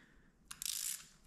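A ratchet wrench tightens the fork's lower clamp on a Ducati Scrambler 800: one short click, then a fast, close, loud burst of ratcheting, a brief pause, and a final click at the end.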